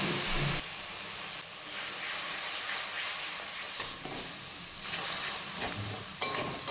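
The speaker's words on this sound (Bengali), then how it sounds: "অল্প একটু জল দিয়ে মশলাগুলো কষিয়ে নিচ্ছি" Spices such as ground coriander sautéing in a pan with a little water, a steady loud hiss and sizzle lasting throughout with faint stirring scrapes.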